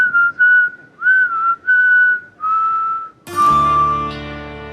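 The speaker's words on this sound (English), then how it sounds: "had to learn to whistle, a loud whistle" A person gives a loud, shrill whistle, a series of short, separated blasts followed by one sustained note, while a bright musical chord enters under the last whistle.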